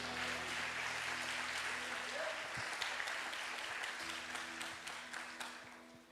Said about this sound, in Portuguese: Aplauda ele aí em nome de Jesus